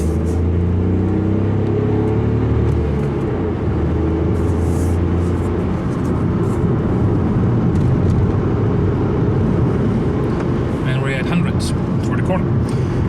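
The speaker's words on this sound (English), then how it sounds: "We go on the highway and we accelerate full speed." A 2018 VW Polo 1.0 TSI Comfortline speeding up at full throttle on a highway, a loud engine drone whose tone rises through the gears, with heavy tyre and road rumble throughout, heard from inside the cabin.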